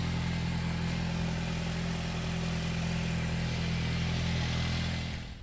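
A straight-piped Saab 9-5 exhaust with a small leak idles steadily with a low, even rumble and faint puffing irregularity, close by, with no talk.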